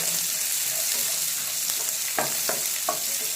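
Thick-cut onions fry in a pan with a steady, bright sizzle, and a few soft stirring scrapes of a spoon come through near the end.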